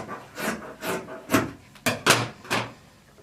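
Scissors trim the selvage off fleece fabric, making a row of about seven soft, close rasping snips at a steady, unhurried pace.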